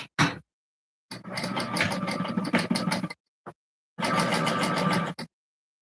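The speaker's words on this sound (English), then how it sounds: "then we will sew that across at 1/4 of an inch seam" A sewing machine stitching a quarter-inch seam allowance runs in two steady mechanical bursts of about two seconds and one second. A short stitch is heard near the start, then a brief tick between the bursts. Nothing else sounds, and no one talks.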